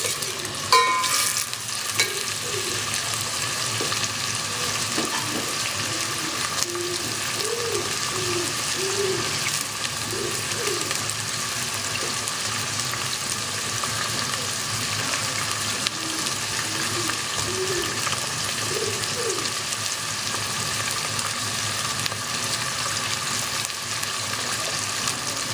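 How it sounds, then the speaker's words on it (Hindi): Torai (ridge gourd) sabzi fries in a pan with a steady, close sizzle that holds throughout, with faint scraping and stirring over it and no talk. "इसको थोड़ा फ्राई होने देंगे हम।"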